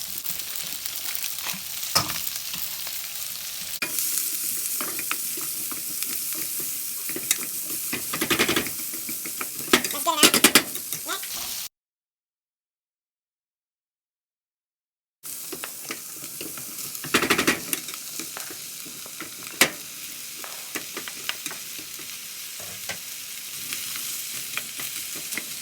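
Butter sizzles in a pan on high heat beside corned beef and cabbage, giving a continuous crackling hiss with sharper spits, broken by a few seconds of complete silence before the frying resumes.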